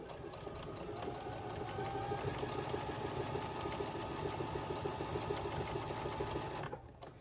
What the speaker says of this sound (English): it's catching that hem right there, but it's also sewing the trim on at the same time